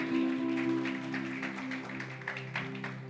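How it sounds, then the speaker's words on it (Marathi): A church congregation claps in praise during a Sunday sermon, a dense, moderately quiet patter of many hands over a sustained tonal music bed, continuing steadily for a few seconds without speech. "एकदा टाळ्या वाजूयात, प्रभूला धन्यवाद देऊयात."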